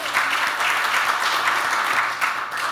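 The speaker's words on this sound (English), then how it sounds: "you can go ahead and clap for them" Audience applause in a university panel session, steady dense clapping from a crowd holding at an even level throughout, fairly close and with no voices over it.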